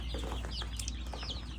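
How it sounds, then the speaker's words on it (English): Newly picked-up baby chicks, including barred ones, peep in short high chirps, close and fairly faint over a low background hum. "little baby chicks that we just picked up today"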